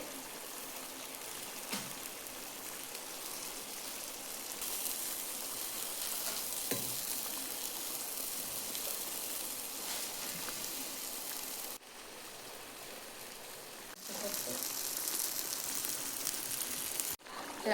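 Steady, broadband sizzling of mackerel frying in hot oil, continuous and fairly loud throughout, with a brief dip midway and a few small clinks.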